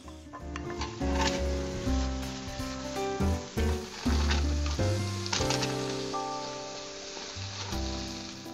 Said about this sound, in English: Brown the beef on medium high.